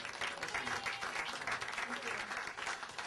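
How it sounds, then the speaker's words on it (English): An indoor audience at a library branch opening celebration claps steadily for the committee co-chairs, a dense continuous wash of many hands, moderately distant. "Let's give them a big round of applause."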